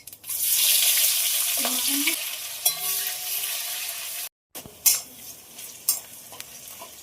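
Chopped onions and five-spice seeds fry in hot oil with stirring scrapes, then a short silence, followed by quieter sizzling and a few sharp clinks.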